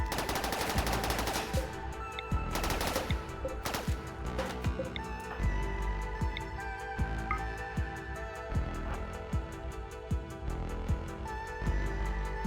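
Turrets trading automatic gunfire in the RimWorld video game: rapid, evenly spaced shots rattle continuously for several seconds, with sharper bursts near the start, loud and steady without speech.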